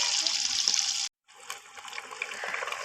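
Fish sizzles and crackles steadily in hot oil, a loud bright frying hiss that cuts out briefly and then resumes with scattered pops and spits.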